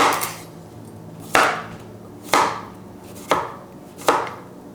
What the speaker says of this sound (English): Just gonna slice up this cucumber.